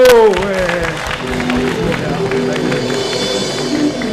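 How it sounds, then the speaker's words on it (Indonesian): An audience at a business seminar claps and cheers briefly after a voice trails off, the applause loud and close with murmuring mixed in. "kasih tepuk tangan dong"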